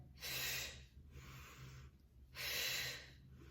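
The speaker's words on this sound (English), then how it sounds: "We're exhaling and inhaling." Slow, deep breaths during a beginners Pilates class: a long airy exhale, a softer inhale, then another strong exhale, close and clear with no talking.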